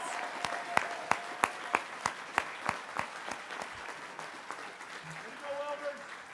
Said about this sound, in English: We could have one last round of applause for all of our graduates.